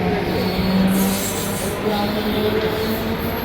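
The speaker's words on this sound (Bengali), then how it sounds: "ট্রেন চলে গেল আমাদের" A suburban train pulls away on the line toward Dakshineswar, a steady mid-distance rumble with faint wheel squeal and a brief tonal whine over it, no voices.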